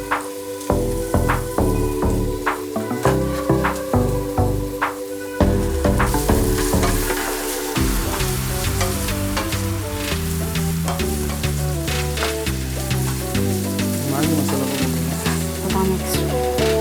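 Sliced capsicum sautés in a pan for veg Maggi masala, a soft sizzle and stirring sounds under loud continuous background music throughout.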